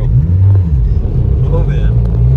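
Turbocharged 2AZ-FE four-cylinder swapped into a Subaru BRZ, heard from inside the car as a loud, steady low engine drone with a slight rise in pitch, talk going on over it.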